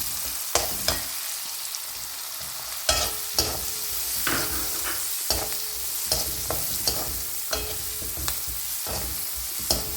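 Small onions frying with turmeric in a pan, a steady close sizzle broken by repeated sharp scrapes and knocks of a spoon stirring, no voices.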